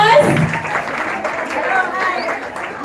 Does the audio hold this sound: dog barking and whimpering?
no